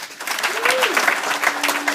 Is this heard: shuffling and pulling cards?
no